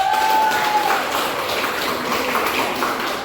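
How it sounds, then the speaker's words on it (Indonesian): Applause from a classroom of students for a student group, a dense steady patter of many hands sustained at an even level throughout, with a brief faint tone near the start. "Tepuk tangan untuk kelompoknya Gesa dong."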